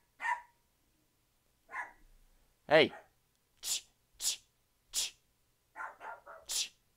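Little dogs yap in a string of short, sharp barks spaced irregularly over several seconds, fairly close. Someone briefly speaks between the barks.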